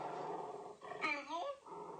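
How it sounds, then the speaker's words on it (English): A dog growls and whines in short, close vocalizations, rising into a brief yelping moan in the middle of the clip. "Beautiful dog, guys."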